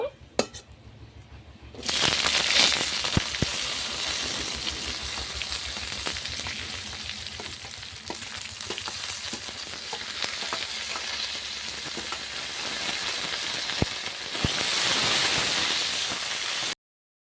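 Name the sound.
cut okra frying in oil with five-spice (panch phoron) tempering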